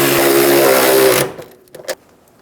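A power tool whirs loudly and steadily while snugging down the strut top nuts on a Subaru Outback, then cuts off abruptly, followed by a few faint clicks and knocks.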